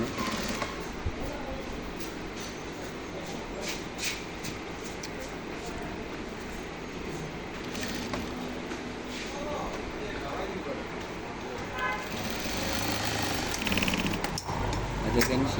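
A sewing machine stitches fabric with a fast, rattling mechanical chatter that runs steadily and fairly faint, while a voice speaks over it.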